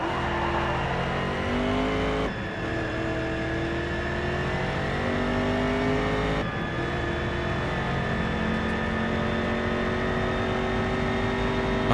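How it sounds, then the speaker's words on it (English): Race cars in the video game Race Driver Grid, engines howling at high revs with rising gear pitch, two sharp gear changes, and a rival car audibly close, loud and continuous. "I can hear his car gaining on me."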